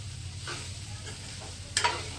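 Ivy gourd pieces fry in a pan for an Andhra-style fry, a steady close sizzle with a couple of quick scraping stirs.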